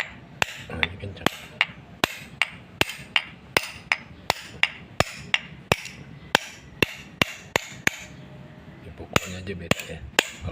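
Repeated sharp hammer strikes driving a metal blade onto the shaft of a Maspion electric fan, evenly spaced blows close up, with faint background noise between hits.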